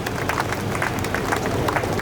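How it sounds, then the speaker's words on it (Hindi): A church congregation claps together during a silver jubilee Mass celebration, a steady dense wash of hand claps at moderate loudness that runs through the whole short stretch. "हम सभी कोई ताली बजाएंगे।"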